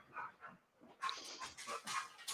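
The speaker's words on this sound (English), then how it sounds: "That's a happy sounding dog." A happy dog panting and making small whimpering, huffing noises in quick bursts, fairly faint and close, alone without talk.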